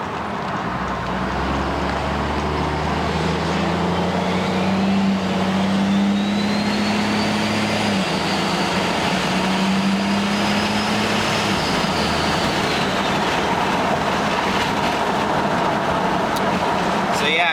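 A steady, loud drone of a compound-turbo 5.9 Cummins diesel truck at highway speed, with low engine and exhaust rumble and road noise throughout, plus a rising whine in the middle.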